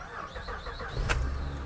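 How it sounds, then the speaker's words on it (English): A 2006-2014 Honda Ridgeline engine starts after a fuel pump replacement: a brief cranking sound, a sharp catch as it fires, then a low steady idle, heard close and fairly quiet. "And then I'm gonna go ahead and start it."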